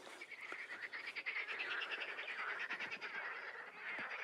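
A chorus of frogs croaks continuously at a distance, a dense overlapping rattle with no voices.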